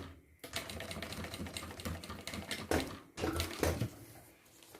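A sewing machine stitches piping onto a retro university backpack, giving a rapid, continuous mechanical chatter up close, with a short break and then renewed bursts of stitching.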